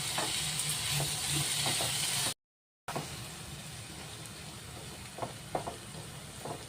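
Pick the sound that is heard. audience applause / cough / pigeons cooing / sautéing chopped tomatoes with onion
sautéing chopped tomatoes with onion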